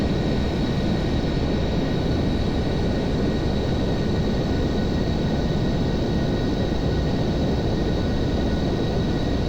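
Boeing 747 jet engines in the Aerofly FS 4 flight simulator, climbing after takeoff: a steady, loud broadband roar with faint high whining tones that holds unchanged throughout, with no voices.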